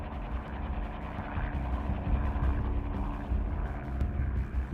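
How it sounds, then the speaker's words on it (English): Helicopters preparing an assault on Chernobyl's reactor number 4 give a steady, low rotor rumble overhead, continuous and fairly loud throughout with no talk. "Above them is the sound of helicopters preparing an assault on Chernobyl's reactor"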